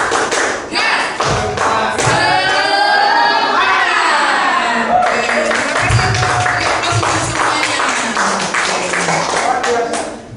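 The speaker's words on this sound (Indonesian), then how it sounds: "Tepuk semangat." A group claps in a quick rhythmic pattern and shouts together in unison, a loud chant of "semangat" rising midway, with sharp claps continuing throughout.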